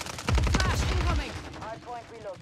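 Gunfire bursts in a Call of Duty match, a quick cluster of close shots in the first second fading into quieter distant fire.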